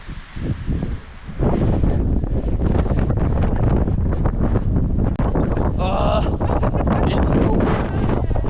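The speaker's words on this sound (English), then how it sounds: "So windy, like you probably can't even hear me." Strong wind buffeting a microphone outdoors on a Swiss mountainside at Saxerlücke, a loud continuous low rumble that swells and holds steady throughout, with a person talking underneath.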